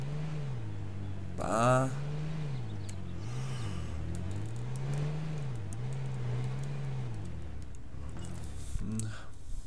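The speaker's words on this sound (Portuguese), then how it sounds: "Carrinho novinho." A battered car engine revving in H1Z1 with the pitch rising and falling through several cycles, mid-loud and steady, while someone speaks briefly over it.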